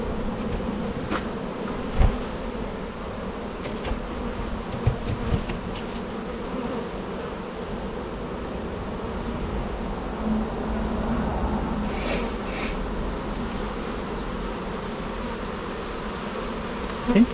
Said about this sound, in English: There are bees flying in at this angle here, and they are returning quite nicely to the right place.